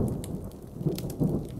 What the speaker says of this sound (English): Outside, the storm was raging.